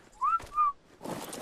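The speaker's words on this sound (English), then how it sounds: "Follow group whistles." Two short rising whistle calls ring out as a group signal in a survival video game, followed by a burst of soft noise, with no talking.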